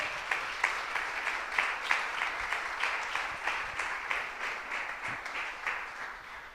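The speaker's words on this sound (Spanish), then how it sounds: "Denle un aplauso a esta palabra preciosa." Church congregation applauding during a Sunday service, a steady sustained wash of many hands clapping at moderate distance, fading slightly toward the end.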